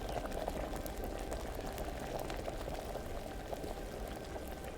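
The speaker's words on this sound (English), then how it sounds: "Grab a vial, and then we wait for the boiling to cease." Alchemy potion boiling in the video game Kingdom Come Deliverance: a steady, dense bubbling and gurgling of liquid that runs unbroken through the clip at moderate volume with no speech.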